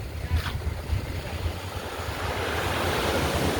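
Ocean waves rolling in at high tide along a shore in Aurora province, a continuous wash of surf with low wind rumble, building slightly louder toward the end, with no voices.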